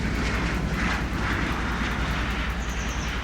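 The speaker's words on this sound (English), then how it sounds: "I hear a plane, but I don't really see it." A propeller plane flies overhead in the video game Alaskan Road Truckers, heard as a steady, moderately distant engine drone with a faint high whine, with no talk over it.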